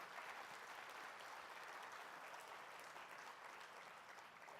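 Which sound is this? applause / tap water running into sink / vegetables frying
applause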